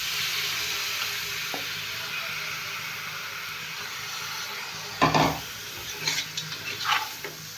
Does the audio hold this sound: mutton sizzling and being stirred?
yes